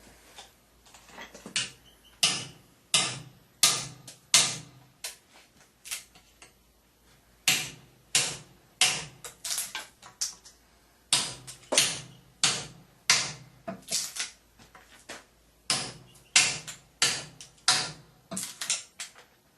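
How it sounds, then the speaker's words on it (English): A 3-pound steel mallet hammers a knife edge down into a 2x4, striking in repeated bursts of sharp, loud impacts with brief pauses between series, no voices present. "we'll go ahead and hammer the edge into a 2x4 using a 3-pound steel mallet"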